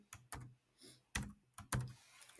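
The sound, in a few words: typing a formula on a computer keyboard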